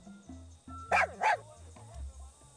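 A dog in Far Cry 6 gives two sharp, loud barks in quick succession, close up, over a quiet bed of low game ambience.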